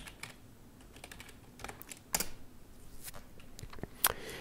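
Computer keyboard typing in a quiet room: sparse, faint key clicks in an uneven rhythm, with a couple of sharper, louder taps standing out near the middle and end.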